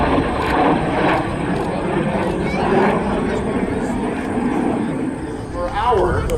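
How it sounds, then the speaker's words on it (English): MiG-17 jet fighter flying at the Aero Gatineau airshow, a loud, continuous rushing engine roar heard outdoors with an announcer talking over it. "And of course the MiG-17 among the first jet fighter aircraft."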